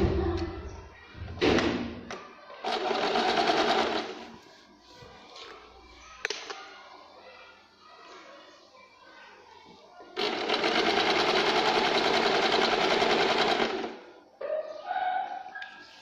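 A sewing machine stitches a one-inch waistband onto a simple katori blouse. It whirs in two runs, a short one early and a longer steady one later, with thumps and a voice in between.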